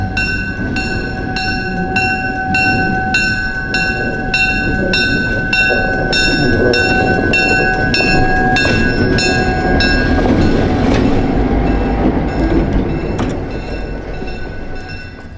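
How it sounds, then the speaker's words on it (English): An Illinois Terminal GP7 diesel locomotive pulls away, its engine humming with steady tonal whine over rumbling, clicking wheels, loud and close, swelling briefly before easing off. "Illinois Terminal GP7 number 1605 is pulling away from the 4 caboose cut."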